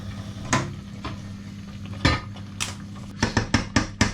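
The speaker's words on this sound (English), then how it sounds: "give it a stir" Spoon or utensil knocking and scraping in a cooking pot while stirring herbes de Provence, salt and black pepper into shepherd's pie filling, a handful of sharp clinks spread out, bunched at the end, over a steady hum.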